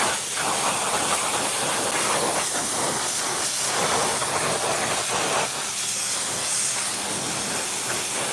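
A water sprayer pre-washes a car, a loud continuous close hiss of spray holding steady throughout.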